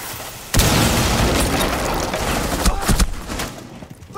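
A frag grenade goes off in a tactical shooter video game, a sudden loud boom followed by a rumbling, crackling tail of debris and a couple of smaller pops before it fades.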